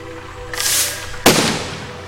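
Cannon fire in the Besiege video game: a hissing rush, then a sharp loud blast about a second later trailing into a sizzling decay, close and alone with no voices.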